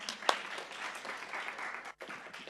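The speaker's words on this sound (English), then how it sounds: "give this man a round of applause" An audience at a medical education conference applauds, a steady dense wash of clapping from a crowd with one sharp clap near the start and a brief dip before it resumes.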